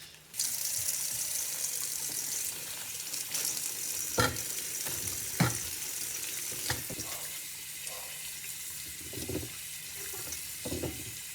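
Tap water running while potatoes are washed at a sink, a steady rushing stream with intermittent splashes and knocks as the potatoes are handled, close by.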